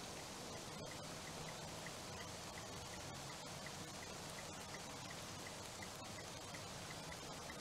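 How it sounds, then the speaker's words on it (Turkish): Rain falls in a car dealer simulator video game, a faint, continuous even hiss of drops with no pauses or voices, steady and quiet throughout. "Gördüğünüz gibi yağmur yağıyor"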